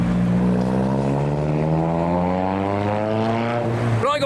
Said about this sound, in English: I presume that is a police drone out there